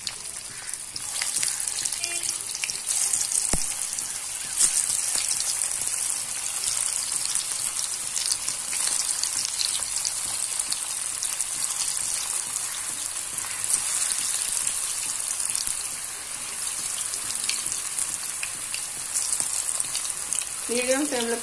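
Cabbage manchurian balls deep-frying in hot oil over a medium flame produce a steady, dense, crackling sizzle that continues close and unbroken throughout, with a few faint clinks.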